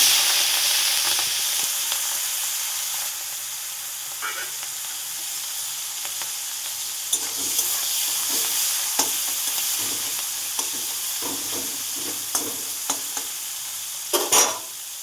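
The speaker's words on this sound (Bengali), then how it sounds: "দেখুন বন্ধুরা, মাছটা ভাজা হয়ে গেছে।" Fish frying in oil in a wok gives a steady, loud sizzle throughout, with occasional stirring clatters and scrapes near the pan.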